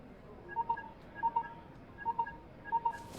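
Telephone dialing in the Lacuna video game: four evenly spaced pairs of short electronic keypad tones, close and clear against a quiet background.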